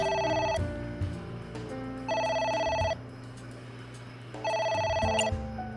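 Telephone ringing in the video game Ai: The Somnium Files, three repeated electronic ring bursts with short pauses between them, clear and alone over faint game background music.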